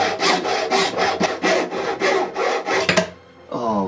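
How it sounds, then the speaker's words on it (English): A hacksaw cutting with about ten quick, even back-and-forth strokes that are loud and close, stopping abruptly before a short tonal sound at the end. "Your hacksaw blades will last 10 times longer if you do that."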